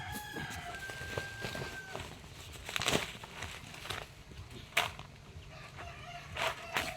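Gamefowl chickens in a cage cluck and call through a busy, rustling background, with a rooster's crow rising partway through and several short fowl calls nearby, moderately faint and with no talk.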